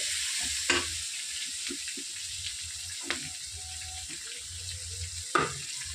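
Onions, green chilies, curry leaves and turmeric fry in a pan with a steady close sizzle, broken by a few louder scrapes and clinks of stirring.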